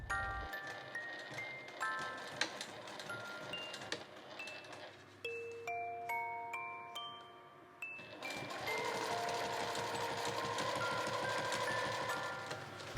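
A sewing machine stitches a zippered insulated bag made from fabric scraps, running in short whirring bursts with pauses, then a longer steady run along the bottom seam, close and clear with no speech.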